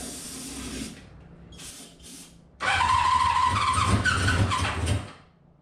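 A small engine, after a liquid rebuild, is sprayed while cranking with no choke. Quieter spraying and fiddling give way to a loud, rough burst of cranking and running for a couple of seconds before it cuts out.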